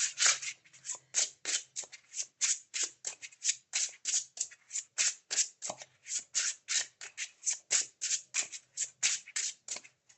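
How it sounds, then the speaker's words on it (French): Playing cards are handled and shuffled at a tarot-style reading, a rapid run of crisp, close riffling snaps and flicks that continues steadily for about ten seconds. "je vais tirer 3 cartes."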